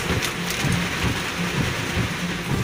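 Heavy rain pouring outside a car, a dense, continuous roar of drops drumming on the body and glass, loud and unbroken.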